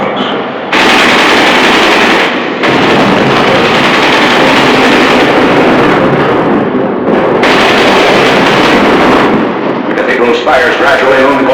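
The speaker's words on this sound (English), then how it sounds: "There is some machine gun fire and occasional shells, but little concerted resistance." Machine gun fire and artillery shells roar through a World War II battle as tanks and infantry advance on a besieged city during the Third Army's Rhine crossing, with dense, continuous loud bursts separated by brief pauses.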